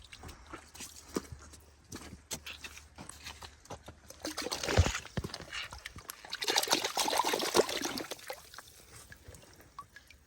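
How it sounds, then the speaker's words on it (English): Water trickles and splashes as a freshly cracked ammonite fossil is rinsed to wash off dust, with soft pouring and handling sounds building in the middle and irregular clicks and knocks throughout. "Should we wash it in the water, get rid of the dust?"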